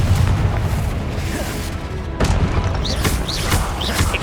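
Confringo spell explosions in Hogwarts Legacy: loud, heavy booms and crashing bursts rolling continuously, with a sharp fresh blast midway and whistling, swooping spell effects after.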